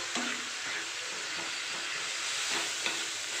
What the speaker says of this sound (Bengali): এভাবে আমি মশলাটাকে ভেজে নিই ভালো করে